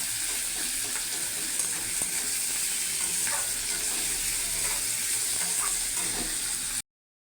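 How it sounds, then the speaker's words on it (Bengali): Onions with grated garlic and salt sizzle steadily in hot oil in a pan, a constant close crackling hiss with occasional louder pops, no voices, cutting off abruptly at the end. "হয়ে গেছে পেঁয়াজ ভাজা"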